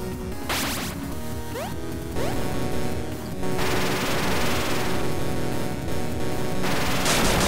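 A wave weapon firing repeatedly in the AVGN Adventures video game, with rapid bursts of bouncing electronic zaps and shots layered over busy game music, loud and continuous.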